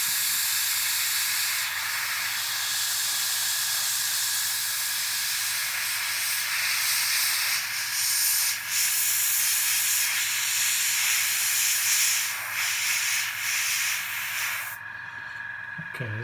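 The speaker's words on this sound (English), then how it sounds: "when you use that, you need to drop your pressure on the airbrush as well" An airbrush sprays very thin, heavily thinned paint at lowered pressure, giving a continuous close hiss that runs steadily for many seconds before cutting off near the end.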